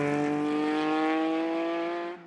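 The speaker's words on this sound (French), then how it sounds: "Leur Stratos ronronne et les voici partis au son du moteur V6 Ferrari." A Lancia Stratos with a 2.4-litre Ferrari V6 from Maranello pulls away at the Tour Auto, its engine droning loud and steady with a rich harmonic note before fading at the end.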